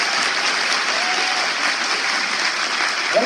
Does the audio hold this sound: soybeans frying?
no